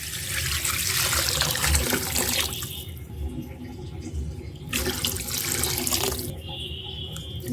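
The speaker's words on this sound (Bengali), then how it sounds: "এবার পানি দিয়ে দিলাম" Water pours into a cooking pan of fried raw mango, a rushing splash that comes in a couple of separate bursts between quieter stretches, heard close and alone.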